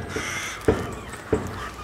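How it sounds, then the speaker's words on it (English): Magpies riled up on a farmyard on a cold, dark, frosty morning give two short, harsh chattering calls about half a second apart, moderately close against a quiet background. "it got the magpies riled up again."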